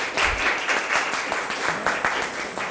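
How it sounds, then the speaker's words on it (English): Audience at a panel session on gender inclusion and economic participation clapping for the panelists, a brief, fairly close burst of individual claps with an uneven rhythm that fills the whole moment. "a round of applause for our panelists"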